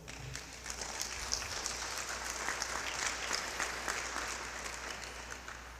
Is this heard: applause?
yes